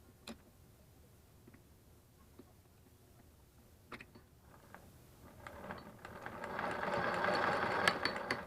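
A Singer 32-1 sewing machine converted to hand crank clicks and ticks sparsely at first, then builds into a faster, louder mechanical whirr of gears and needle action toward the end.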